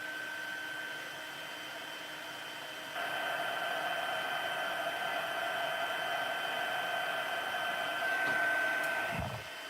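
Heat embossing tool blowing hot air steadily over a stamped craft card, a continuous close whooshing hiss with a faint whine that grows louder partway through and continues without pause.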